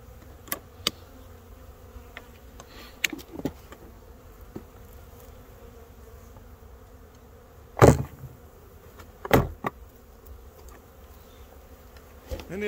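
A swarm of honeybees, roughly three to four pounds, collected during spring swarm season, gives off a soft, steady buzzing hum. Two louder broadband bursts of handling noise rise over it near the end.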